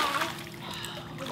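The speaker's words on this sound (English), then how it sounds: "now do we do big splashy kicks like this?" Big splashy back-float kicks churn swimming pool water in a children's swim lesson, a steady close splashing and sloshing that runs throughout under an instructor's voice.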